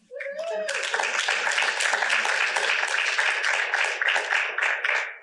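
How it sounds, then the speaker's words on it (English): An audience at a personal testimony talk breaks into sustained clapping right after a brief voice, dense and steady for several seconds, with crowd murmur mixed in. "Guys, clap for yourselves."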